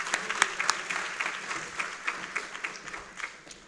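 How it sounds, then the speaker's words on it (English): Audience applause at a university social work master's hooding ceremony, a steady moderate patter of many hands clapping for the full stretch, heard from within the hall. "Another round of applause."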